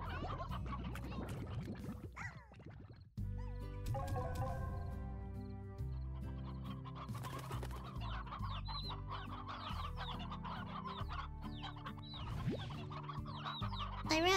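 Cartoonish hens cluck and squawk in the Slime Rancher video game, repeated bursts over layered game music and effects, fairly loud and continuous.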